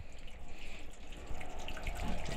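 Spring water runs steadily in the mountain village of Javaherdeh near Ramsar, Mazandaran, a continuous close gurgling and splashing with no voices.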